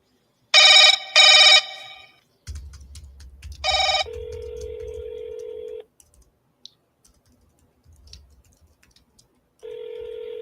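Outgoing phone call with two loud ring bursts and a dialing tone, then a long steady tone, a pause with faint clicks and the tone returning, heard alone without talk.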